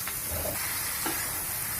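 Okra pieces dropped into a hot wok with potatoes, giving a continuous close sizzle and steamy hiss with a couple of soft stirring clunks underneath.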